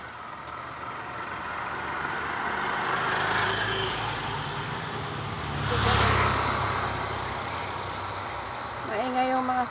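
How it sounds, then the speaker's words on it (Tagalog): Vehicles pass along a roadside in a steady noisy rush that swells and fades as each one goes by, with one louder passing around the middle and a brief tonal beep near the end. "Maingay yung mga sasakyan."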